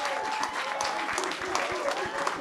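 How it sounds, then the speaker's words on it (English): Audience applauding at a boxing post-fight press conference, steady dense clapping that fills the room at moderate loudness without pause. "a round of applause for Showtime Shawn Porter"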